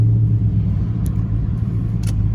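A Cadillac with a 4L60 transmission that won't shift gears, its engine droning in a steady low rumble without changing pitch, loud and close, with no voices over it.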